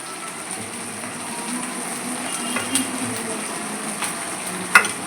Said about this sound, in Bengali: এটা এই মশলাটা দেবো, দিয়ে কষিয়ে নেব।